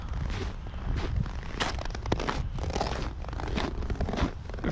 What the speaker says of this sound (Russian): Как снежок хрустит. Морозец.